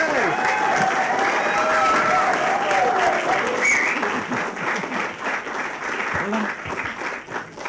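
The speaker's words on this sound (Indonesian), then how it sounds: "Nah, tepuk tangan yang meriah." Lively audience applause on an Indonesian television show, a full crowd clapping loudly under a host's voice and then thinning into scattered claps toward the end.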